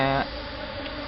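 Honey bees buzz during a hive harvest, a dense droning hum that carries through the short moment at steady loudness with no talk over it.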